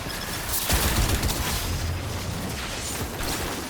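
Explosions from exploding enemies in Destiny 2's Presage mission: dense, continuous rumbling booms and bursts layered with game mechanisms, loud and sustained with a heavy low-end surge midway, no talking.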